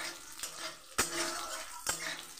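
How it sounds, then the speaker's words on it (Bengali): Chopped ginger, cumin seeds and slit green chilli fry in a pan for plain mung dal, a steady close sizzle broken by a few sharp scrapes and clinks of the stirring spoon against the metal. "এটাকে আমি হালকা নেড়ে চেড়ে ভেজে নেব।"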